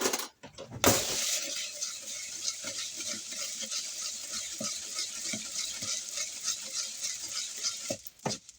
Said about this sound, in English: I'm going to mix that up.